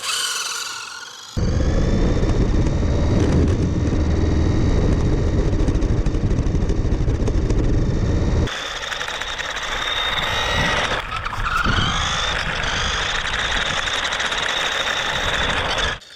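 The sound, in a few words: Red Bull F1 RC toy car driving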